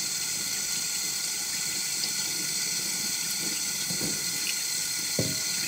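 Running tap water pours steadily into a sink while soil is washed off potatoes for a potato salad, a constant close rushing splash with a few soft knocks from the handled potatoes and no talking.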